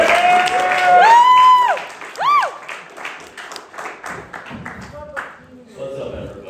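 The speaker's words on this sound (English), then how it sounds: "So give him a big round of applause" A stand-up comedy audience gives a comedian applause and cheering, opening with loud whoops and whistles over clapping, then a steady wash of hand claps that gradually thins out, with some crowd voices mixed in.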